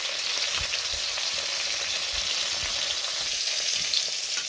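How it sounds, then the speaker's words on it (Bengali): Spiced fish frying in a pan gives a loud, continuous hiss and crackle of hot oil, close and unbroken, with faint stirring knocks underneath. "ওইগুলো ভেজে নিলাম মাছ মশলা করে।"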